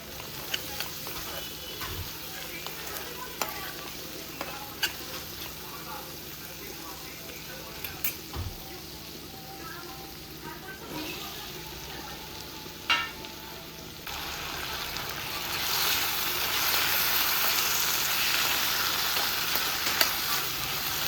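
Potatoes and lentils fry in a pan with bay leaf and a dried red chilli, and banana flower is then added. A steady low sizzle runs throughout, with occasional stirring clicks, and it grows brighter and louder in the last few seconds.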